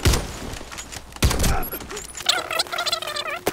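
Gunfire crackles in the Warface online shooter, with a few sharp shots and bursts in the first half followed by a warbling electronic tone, close and loud with no talking.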